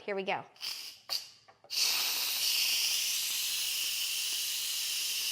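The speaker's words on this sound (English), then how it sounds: "let all of the steam and pressure be released so we can take a look inside" Steam and pressure vent from a pressure cooker making homemade vegan chili: after a few short spoken words, a loud, steady hiss bursts out close by and holds unbroken to the end.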